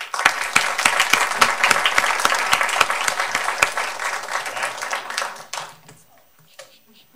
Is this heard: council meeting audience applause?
yes